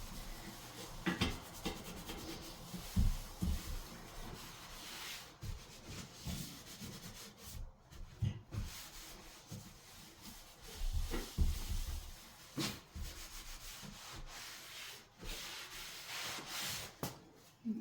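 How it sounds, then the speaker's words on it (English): A sink is scrubbed with the rough Velcro side of a sponge, making steady close rubbing and scouring strokes in uneven bursts, with occasional knocks and pauses, quiet and with no talking. "take the Velcro side of this and just kind of give it a good scrub as well"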